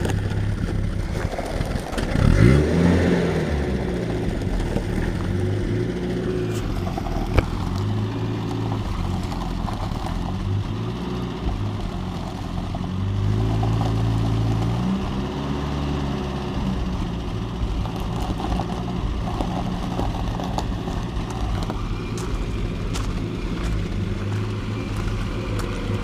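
A 1976 Land Rover Series III engine idles and runs steadily while the vehicle is slowly manoeuvred, a loud close rumble with a brief rev near the start and an even drone throughout, no speech.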